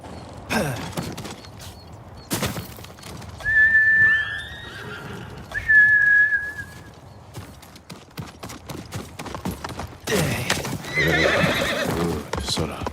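A horse in the video game Ghost of Tsushima gallops with clip-clopping hoofbeats and gives two clear whinnies. Bursts of galloping and other game sounds come and go around the calls.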